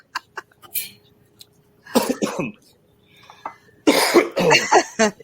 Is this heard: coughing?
yes